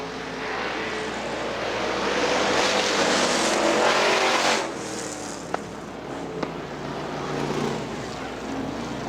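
Street stock race cars roar around the oval at Butler Motor Speedway, a loud, continuous engine drone that swells and fades as the pack passes, with a couple of sharp knocks near the end.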